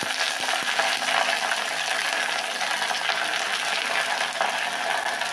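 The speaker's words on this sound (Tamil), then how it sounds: "நம்ம கருவேப்பிலை போட்டுக்கிறோம்" Curry leaves dropped into hot sesame oil with popped mustard seeds crackle loudly in a dense, continuous sizzle that holds steady throughout, close and with no talk.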